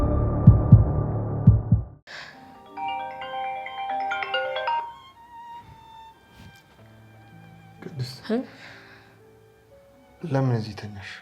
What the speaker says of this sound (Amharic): ስልክሽ ከቅድም ጀምሮ እየጮኸ ነው